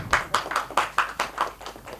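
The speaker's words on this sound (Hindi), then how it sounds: "ढोल के लिए एक बार जोरदार ताली होनी चाहिए।" About nine sharp, evenly spaced claps ring out in a steady rhythm at a Hindi film trailer launch event, as applause for a dhol player. They sound close, with no voices.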